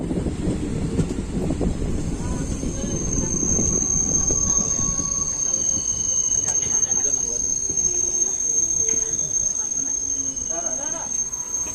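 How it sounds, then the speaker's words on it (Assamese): A passenger train on the Tangla to Guwahati line rolls slowly, its wheels rumbling and squealing on the rails, louder at first and then easing, with crickets chirping steadily in the background. "ট্ৰেইনখন এতিয়া অলপ লাহে লাহে গৈ আছে"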